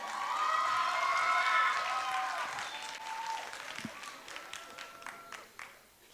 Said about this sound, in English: So another round of applause, I think.